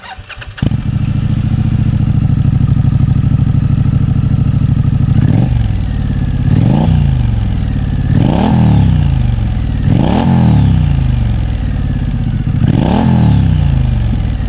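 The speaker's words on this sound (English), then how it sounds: "the exhaust also sounds really nice for a modern bike" A Triumph Scrambler 900 motorcycle starts up and idles loudly, then its exhaust is blipped in a series of five sharp, evenly spaced revs that rise and fall, close up with no talking.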